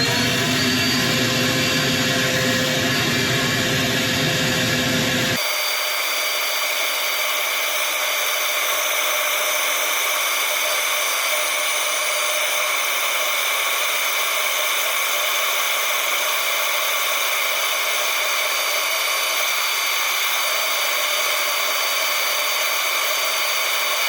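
A wooden Christmas tree spins on a woodturning lathe while being sanded, a steady whirring hiss with a bright sustained tone that continues at an even level. The sound changes abruptly a few seconds in, and the rest holds as a constant drone.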